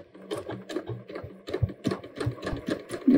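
A domestic sewing machine runs in a close, steady rapid chatter while stitching across the waistband of a pair of pants or shorts, with a brief louder burst near the end.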